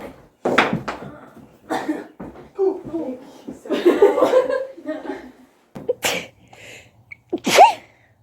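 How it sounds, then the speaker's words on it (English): Several sneezes and sneezy bursts mixed with chuckling and brief voice sounds, close and fairly loud. "See, how long can I stand it before I sneeze again?"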